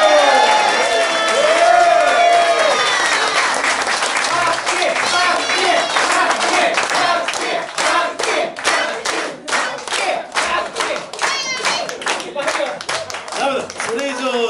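Loud, sustained applause from an audience at a live music session event, dense clapping that runs unbroken throughout with cheering voices mixed into the crowd noise.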